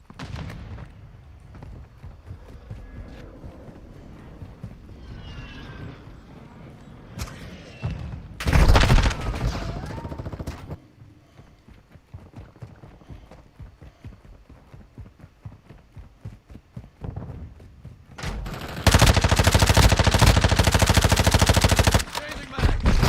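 Gunfire in Call of Duty Modern Warfare II, loud bursts of rapid automatic shots in two clusters, with quieter game sounds and someone talking in between.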